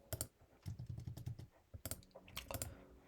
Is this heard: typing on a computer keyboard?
yes